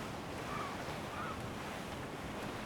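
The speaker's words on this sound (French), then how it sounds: "Le vent a forci." A sailing ship at sea in the video game Assassin's Creed 4 Black Flag: strong wind and rushing waves form a constant, loud, even roar, with no voices.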